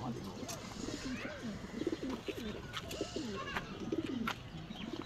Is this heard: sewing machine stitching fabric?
no